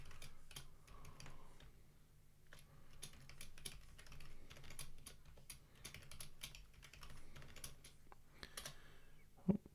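Fingers tap out a password on a computer keyboard in a quick, uneven run of soft clicks lasting several seconds, close and fairly quiet, with no voices.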